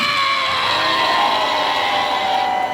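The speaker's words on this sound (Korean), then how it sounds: "함성 발사" A street rally crowd cheers and shouts without a break, a loud sustained roar of many voices with ringing, held tones across the whole stretch.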